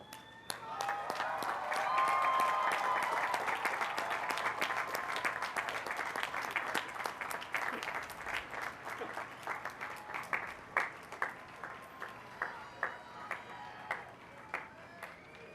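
Standing graduates at a college of business commencement applaud their families and supporters, a full crowd clapping loud at first and then thinning into scattered, sharper individual claps toward the end.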